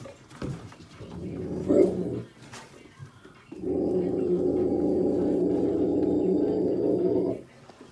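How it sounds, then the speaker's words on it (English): Dogs meeting a German shepherd for the first time: close, low rumbling growls, one short burst followed after a pause by a long sustained growl lasting several seconds. "First, kind of showing Ari that, hey, there's other dogs here"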